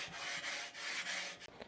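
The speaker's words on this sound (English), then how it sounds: "I just grabbed my cleaning stone and I'm scraping some of the areas that still look a little bit loose" A cleaning stone scrapes rust off a Blackstone griddle's steel cooktop in a few quick back-and-forth rasping strokes, close and gritty, with no voices.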